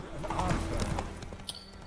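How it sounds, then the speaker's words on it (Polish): Horse hooves clop steadily on the ground as a horse is ridden in The Witcher 3, a quick rhythmic trot under a busy game background. "Jeżdżenia na koniu, tak? Ujeżdżania konia w tej grze, bo jest całkiem, całkiem trudne."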